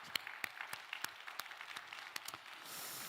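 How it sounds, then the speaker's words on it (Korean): Church congregation applauding their associate pastors and evangelists, a short burst of scattered hand claps, fairly quiet and sparse, fading into a soft wash toward the end. "우리 부목사님들 전도사님들 박수 한번 격려합시다."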